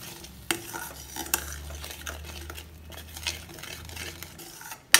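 Spices and tomato being stirred in a pan for shahi paneer: close spoon scrapes and knocks against metal over a low sizzle, with a sharp clank near the end and no voices.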